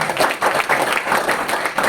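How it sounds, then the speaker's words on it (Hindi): A short burst of group clapping rises from an audience in applause for a doctor, brisk and fairly loud, with a few voices faintly beneath it. "तो इनके लिए तालियां तो होनी चाहिए कि नहीं?"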